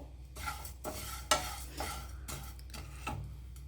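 Flattened rice (aval) roasts in a pan under a spoon stirring in quiet, rhythmic scrapes and rustles, with a faint sizzle underneath and no voices.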